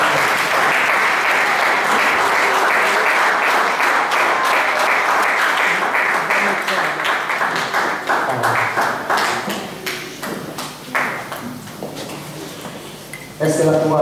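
A church congregation claps and applauds loudly together for several seconds, the clapping thinning out and fading with voices mixed in before a final burst.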